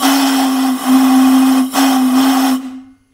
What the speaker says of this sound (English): It's a really low pitch whistle.